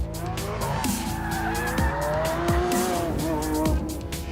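A Lamborghini Aventador S supercar with a V12 engine drives hard, its engine note climbing and falling while tires squeal in several repeated bursts, close and loud.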